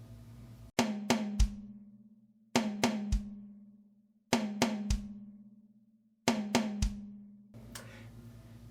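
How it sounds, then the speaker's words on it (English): Drum kit groove with both hands striking the first tom for two notes, then the bass drum: four short repeated phrases of ringing tom hits and a deep kick, each followed by a ringing decay, close and alone. "we're simply going to bring both our hands now up to the first tom for our first 2 notes, and then of course our bass drum's our third"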